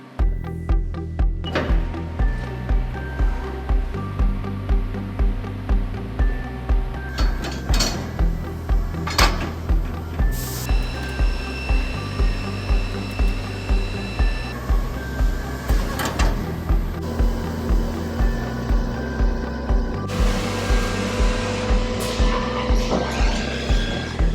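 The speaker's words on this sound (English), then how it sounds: "Keep the bar feeder loaded up with our 4-foot sections. It'll keep on spitting them out and spitting out parts" A CNC lathe fed by a bar feeder machines engine center studs from 4-foot bar sections, giving a steady loud mechanical whir with rhythmic repeating clanks and tonal whines throughout.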